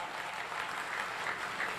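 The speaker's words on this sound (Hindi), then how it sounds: "आपकी तालियां" An audience at a poetry recital about Lord Ram claps, a brief, fairly faint and even wash of applause heard from a distance with no speech over it.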